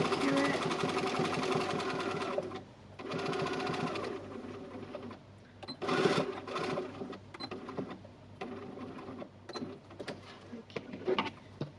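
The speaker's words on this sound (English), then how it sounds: "I like to pop a couple of stitches in the end there." A sewing machine stitches the end of a small fabric card holder and needle case, whirring in several close bursts separated by short pauses, with a voice talking at times over the motor.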